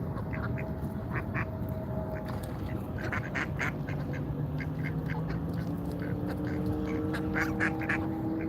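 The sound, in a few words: curl duck quacking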